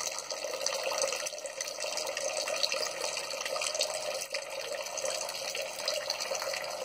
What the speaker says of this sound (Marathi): आता पूर्ण भांडं रिकामं होईल, तोपर्यंत हे सगळं पाणी आहे तसंच पडत राहील.